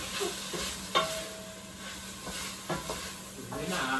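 Rice with sausage and ham sizzling and frying in a pan, stirred with a few scraping strokes against the pan, steady close sizzle throughout with no talking.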